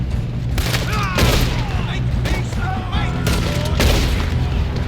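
Explosive charges detonate in Red Dead Redemption 2 during a train robbery, several heavy booms in quick succession with crackling debris and gunfire mixed among them, while a voice speaks in between.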